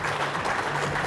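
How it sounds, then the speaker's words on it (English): Dense audience applause for keynote speakers at a security conference forum, with many hands clapping in a continuous, loud, close wash and no pauses. "we might as well appreciate this applause at the front end"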